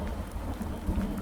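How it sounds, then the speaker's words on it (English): Thunder in the video game Farming Simulator 19, a low rumbling roll with steady rain-like hiss throughout, distant and fairly quiet. "Oh, that's thunder."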